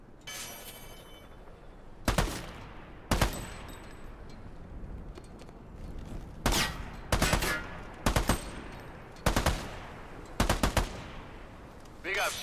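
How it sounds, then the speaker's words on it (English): Rubber-bullet gunfire in an Army of Two training simulation on Xbox 360: about seven loud, sharp bursts, some single cracks and some quick doubled volleys, spaced irregularly over a low, steady ambient hum with no talking. "We'll be using rubber bullets on this training simulation"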